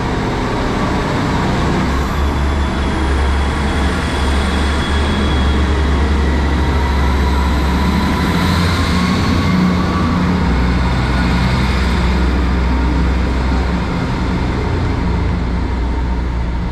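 Loud, continuous rumble of a Great Western Railway class 158 diesel passenger train moving through Taunton station, with a steady low roar and faint high squeals, no voices.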